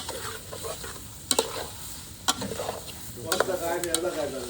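Pakoras frying in oil at a party, a steady sizzle with sharp scraping stirs and clinks of a utensil against the pan, growing busier toward the end.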